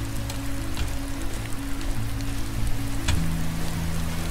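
Steady rain pours down in the game Until Then, a dense even patter on surfaces with faint drips and a low tonal hum beneath, running throughout without voices.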